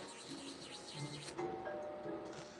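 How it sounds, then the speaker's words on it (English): A doorbell chime rings out clearly over steady outdoor background noise, a short ding-dong tone standing out near the middle. "Can I ring the doorbell?"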